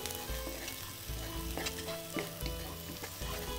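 Carrots tumble into a pan of vegetables sautéing in oil, bringing a steady close sizzle with scraping stir strokes and soft clatters as the pieces land, continuous throughout and with no one talking.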